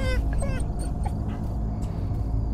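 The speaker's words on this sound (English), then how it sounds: "Hey, puppy." A puppy in the horror game Fears To Fathom: Carson House whimpers and yips in short high whines over a steady low game background, with a voice briefly talking near the start.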